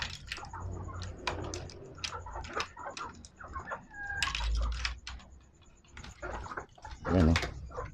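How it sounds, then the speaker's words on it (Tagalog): Black Kelso chickens cluck nearby in a backyard coop, with repeated short clucks and calls scattered throughout, while a person talks over them. "Ito yung mga manok na ano, black kelso."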